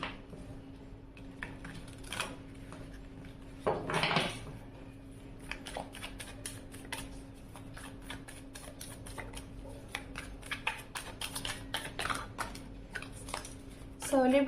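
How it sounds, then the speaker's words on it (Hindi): Tarot cards are shuffled close up in a string of quick, light, papery clicks and flicks, with a denser riffle burst partway through over a faint steady hum. "तो चलिए कार्ड को करते हैं शफल।"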